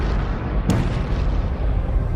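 A major explosion at the PEPCON chemical plant in Henderson, Nevada, heard as a deep rumbling roar with a sharp burst partway through, loud and continuous throughout.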